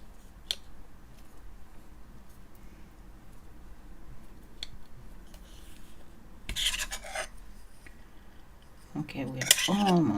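Polymer clay for snow earrings is flattened and burnished with a tool, making soft scraping and rubbing noises, quiet at first and then louder bursts of scraping near the end.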